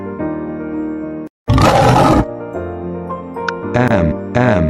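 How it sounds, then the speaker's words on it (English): A lion's roar in a children's alphabet song: a loud, broad burst about a second long stands out between sung musical passages, with singing and melody continuing around it. "L is for lion."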